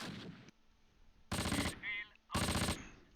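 Two loud bursts of machine-gun fire ring out in a Close Combat World War II tactical game, each lasting under half a second, with quieter battlefield noise and a brief tonal effect between them.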